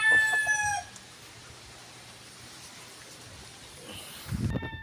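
A labuyo rooster crows near the start, a bright harmonic call lasting under a second, followed by quiet background and a brief low thump near the end.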